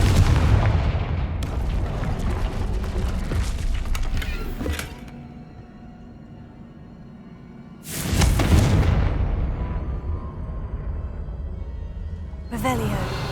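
Confringo fire spells blast in Hogwarts Legacy: loud booming explosions with rumbling, crackling debris, one long roaring burst fading out, then another heavy blast and a sharper hit near the end.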